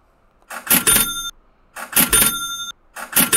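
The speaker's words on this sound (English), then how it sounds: "let me give you a ka-ching button first" Three ka-ching cash register sound effects are triggered from a button in quick succession, each a bright bell ring with a short rattle, crisp and close with silence between.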